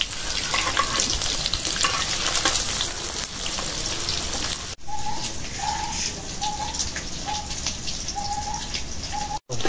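Cabbage fritters fry in hot oil with a steady, crackling sizzle throughout, while a bird repeats a short cooing call in the background during the second half.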